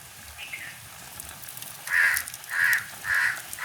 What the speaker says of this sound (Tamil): காகம் வந்து நீண்ட நேரமாக கரைஞ்சி கொண்டிருக்கு.